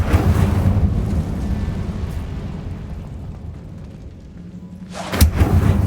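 The Incendio fire spell cast in a Harry Potter video game: a loud, roaring rush of flame that swells and fades, then ends in a sudden bright burst.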